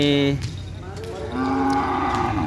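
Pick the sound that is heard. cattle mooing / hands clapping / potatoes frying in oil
cattle mooing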